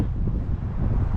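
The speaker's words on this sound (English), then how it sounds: "It's the middle of winter, but it is also very windy." Strong winter wind buffets an outdoor microphone, a steady low rumbling roar with gusty fluctuations that fills the whole short stretch with no voices.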